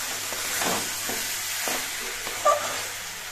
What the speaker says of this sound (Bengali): কিছু দিয়ে নেড়ে চেড়ে মিশিয়ে নিচ্ছি।